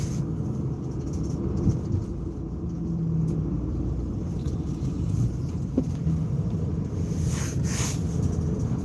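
A car driving at night in the early morning, a steady low engine and road rumble heard close and continuous from inside the vehicle, with no talking.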